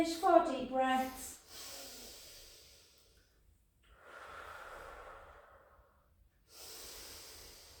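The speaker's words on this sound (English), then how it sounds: "keep the core engaged, 4 deep breaths" Deep, slow breaths drawn and released during a Pilates exercise for the core and glutes, heard as airy, hissing exhales separated by pauses, with a brief voiced sound at the start.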